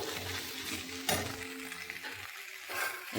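Poha with raisins being stirred and mixed in a hot pan, with a soft sizzle and scraping of the spoon against the metal, steady at close range with no talk.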